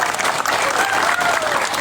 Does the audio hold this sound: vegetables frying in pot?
no